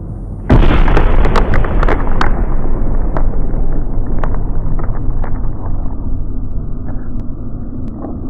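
An egg bursts in one sudden loud blast, followed by a long rumbling, roaring decay with scattered sharp pops.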